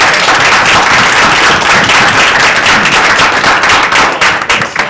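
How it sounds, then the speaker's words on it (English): Loud, dense clapping from an audience after a talk on the legal risks of social media, sustained evenly for about five seconds and tapering slightly at the end. "we have a round of applause"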